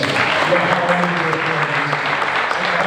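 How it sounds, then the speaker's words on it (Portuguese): A church congregation at a pastoral ordination claps together in loud, sustained applause with voices mixed in throughout. "Você pode aplaudir o Senhor por causa disso."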